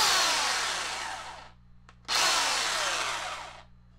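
A Craftsman 14-inch electric chainsaw runs in two loud, steady bursts of high motor whine, each about a second and a half long, with a short pause between them and no talking.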